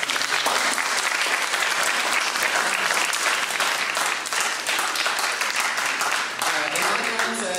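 A college audience at a student presidential debate event breaks into loud, dense applause, many hands clapping steadily for the whole stretch with a faint voice surfacing near the end.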